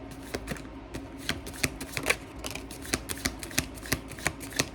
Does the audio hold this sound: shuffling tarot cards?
yes